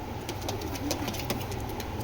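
Racing pigeons give soft, low cooing close by, with faint repeated clicks and scratches over a steady background rumble.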